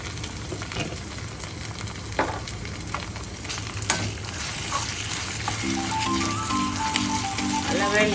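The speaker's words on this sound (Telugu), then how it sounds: "ఇప్పుడు జింజర్ గార్లిక్ పేస్ట్ వేయాలి." Ginger garlic paste frying with browned onions for a South Indian crab curry, a loud continuous sizzle close up with scraping stirs and crackles, while a faint tonal hum enters near the end.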